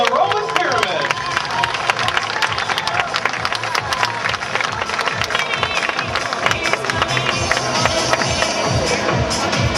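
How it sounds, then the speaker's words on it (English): A crowd at a water ski show applauds and cheers continuously, with dense clapping across the whole stretch under a loudspeaker announcer's voice. "how about a round of applause for our rope doubles in the Roman pyramid?"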